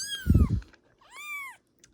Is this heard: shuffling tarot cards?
no